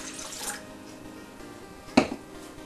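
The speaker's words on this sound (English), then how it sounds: "you're going to add your cold water to this now" Cold water goes into a gelatin and juice mixture in a kitchen, a soft trickling pour followed by one sharp clink or splash, with quiet room tone around it.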